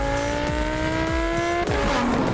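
A Lamborghini Huracan STO on Bridgestone tires, its engine note loud and close with sustained high-revving tones, a brief shift midway and rising revs after, with no voices.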